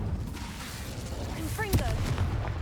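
The Incendio fire spell is cast in Hogwarts Legacy, a loud rumbling burst of flame with a sharp crack partway through, set against booming game action while a voice speaks briefly.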